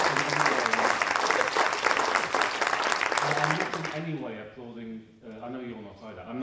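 Audience applauding at a university pensions Q&A with the Vice Chancellor of Cardiff University, loud dense clapping for about four seconds before it gives way to someone speaking.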